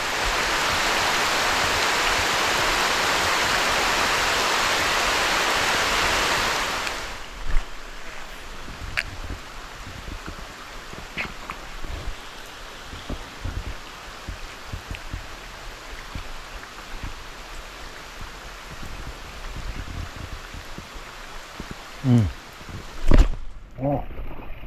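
Heavy rain pours onto an oil palm plantation as a loud, dense roar for several seconds, then drops to a softer patter with scattered drips and taps.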